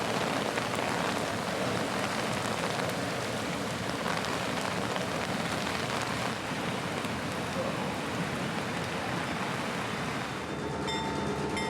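Heavy rain pours steadily at a railroad crossing on the Florida Northern Railroad, a dense, loud hiss that never lets up, with a faint rumble underneath and a few thin tones near the end.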